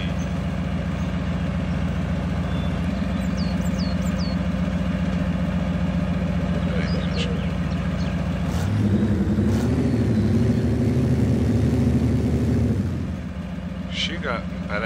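A truck engine in the SpinTires off-road driving game idles with a steady low drone, then revs louder for a few seconds before settling back to idle.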